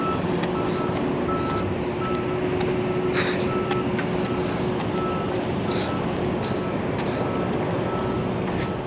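Regularly spaced reverse-warning beeps from a truck on a road, sounding at some distance over constant low traffic rumble and wind noise.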